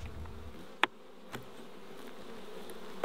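Honey bees buzz during a routine inspection of a honey hive in the Mallee bush, a faint, steady insect hum close by with a couple of sharp clicks or knocks breaking through, and no one talking.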